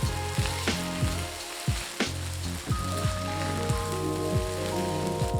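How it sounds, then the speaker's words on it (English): Egg frying with beef in a hot pan for Thai pad see ew, a dense loud sizzle with repeated sharp spatula knocks and scrapes against the pan. "We will let the white egg to set for half a minute before breaking it up the yolk with the spatula."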